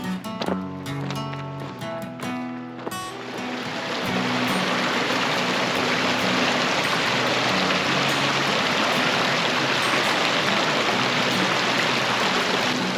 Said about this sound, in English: This is Lime Creek